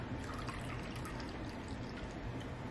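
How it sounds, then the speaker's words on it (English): Espresso martini of espresso, Kahlua and vodka poured into a martini glass, a faint, steady close-up stream of liquid splashing continuously for a few seconds. "So let's just pour it in."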